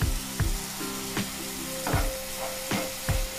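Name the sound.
tomatoes and curry leaves sautéing in a pan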